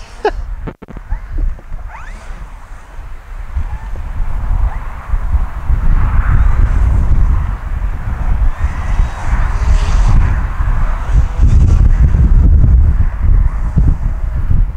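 Heavy wind roars across an RC airfield, a dense low rumble of microphone buffeting that builds after a quieter start and stays loud and continuous with no talk.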